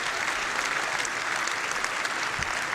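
A crowd of people claps steadily, dense and even throughout with no pauses.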